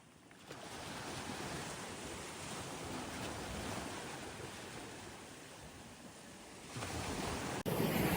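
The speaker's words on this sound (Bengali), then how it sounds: "সমুদ্র গর্জন বোধহয় শুনতে পাচ্ছেন" Ocean waves roar in a continuous broadband rush, with wind buffeting the microphone and a louder surge near the end.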